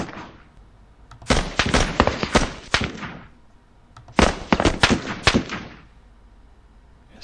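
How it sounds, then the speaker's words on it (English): SVD sniper rifle fire in a Soviet-Afghan War squad battle video game: two separate clusters of sharp, loud, rapid shots with a few seconds of quiet between them. "I'm firing just the SVD."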